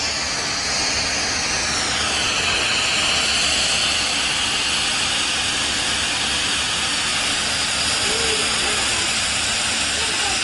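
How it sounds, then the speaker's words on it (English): A Bissell PowerFresh Lift-Off Pet Steam Mop releases a steady, loud hiss of steam on tile, a continuous broadband rush that holds through the whole stretch. "That's where all the steam is coming out."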